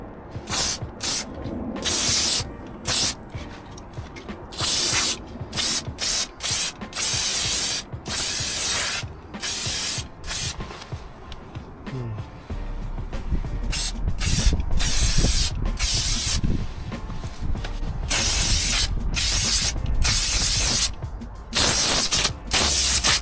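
Bilt Hamber Dynax clear wax sprayed from an aerosol onto the wheel arches of a Ford Transit van, heard as repeated close hissing bursts of varying length that turn longer and more continuous in the second half.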